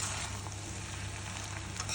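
Tomato rice with potato sautéing in a pan, giving a steady close hiss and sizzle with a low hum underneath and no distinct stirring strokes, heard alone without talking.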